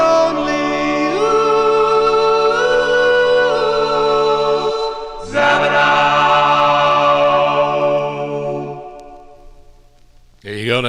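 A 1961 doo-wop record plays as sustained group-harmony vocals, closing with a held final chord that fades out, then a brief low noise at the very end.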